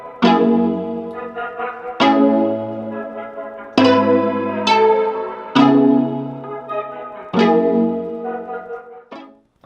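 Chopped guitar chords with tremolo, reverb and EQ cutting highs and lows, struck in separate bursts roughly every two seconds, each ringing and decaying with a pulsing shimmer.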